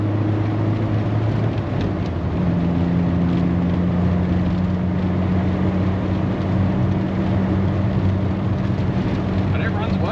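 A 1989 Volkswagen Cabriolet cruises at about 60 miles an hour, its engine humming steadily under constant road and wind noise, heard from inside the car.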